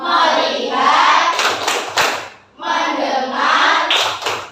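A school class of children clapping together in two rhythmic bursts of quick claps, separated by a short pause, loud and close, with voices chanting along.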